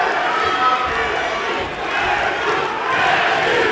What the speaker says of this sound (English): you hear the Kennedy chant go up again from this partisan crowd here in the Newport Centre in South Wales